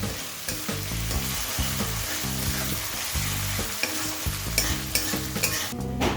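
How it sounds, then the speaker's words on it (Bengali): Tomatoes with salt stir-fried hard in a pan for a fish-head dal, a loud steady sizzle with rapid rhythmic scraping of the spatula, close and continuous. "এবার টমেটোটাকে খুব ভালোভাবে কষে নেব যাতে টমেটোটা ভালোভাবে গলে যায়"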